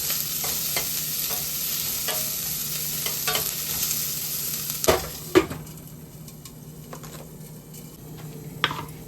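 Onions and green chillies sauteing in a pan, a soft continuous sizzle with spatula stirring and scraping that is occasionally punctuated by sharper knocks.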